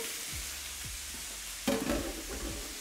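Chicken pieces browning in oil in a pan for Basque chicken give a steady close sizzle, with a louder clatter and burst of spitting about halfway through as the pieces are rolled over.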